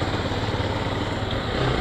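Honda Titan 150 motorcycle engine running steadily close by, a continuous buzzing drone with no talking.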